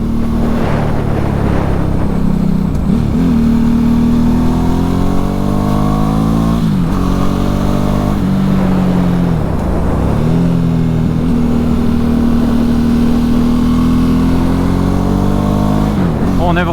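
A 2010 Ducati Hypermotard 1100 Evo motorcycle engine revving steadily in the 4000-6000 rpm range, loud and continuous with rising and falling pitch as the rider accelerates through corners, with a voice talking over it.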